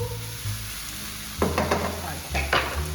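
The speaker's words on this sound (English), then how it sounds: "Sizzle, sizzle, sizzle." Omelette sizzles steadily in a frying pan, with a couple of sharper bursts of frying and faint scraping of utensils, no talking.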